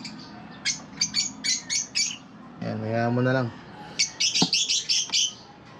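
Pet birds chirp in quick repeated bursts, with a brief spoken phrase in the middle, then the chirping resumes busily.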